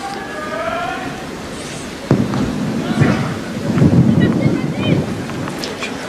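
Strong wind gusts across an outdoor clay tennis court at the 2003 French Open final, a broad rushing roar buffeting the microphone and swelling in waves, with a sharp knock partway through.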